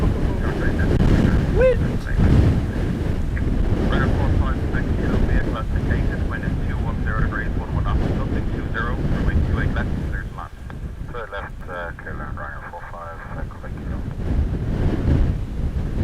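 Strong wind buffets a microphone outdoors at Dublin Airport, a loud, continuous low rumble that eases briefly partway through, with faint voices now and then.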